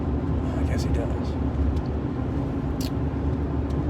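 A maroon truck roars along at speed, its engine and road noise forming a loud, continuous rumble up close, with a few faint higher clanks scattered through.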